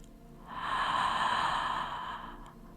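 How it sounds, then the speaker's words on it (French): A deep, audible breath drawn in through the mouth during a sophrology breathing exercise, a single long airy inhale that swells and then fades, close and alone. "Tu vas inspirer profondément par la bouche en créant un son."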